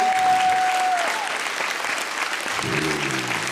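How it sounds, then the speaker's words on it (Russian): Theatre audience applauding after a stage play, steady dense clapping filling the hall throughout, with a brief tone at the start and a voice beginning to speak near the end. "Спасибо вам огромное за ваши аплодисменты"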